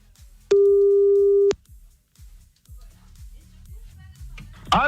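Telephone line tone heard while redialing a caller on a radio show, a single steady beep lasting about a second, loud and close, followed by faint low background sounds.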